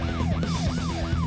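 A police car siren wails as it arrives in an Indonesian school-troublemaker video game. The rising and falling sweeps repeat about four times, loud and close over engine and street noise.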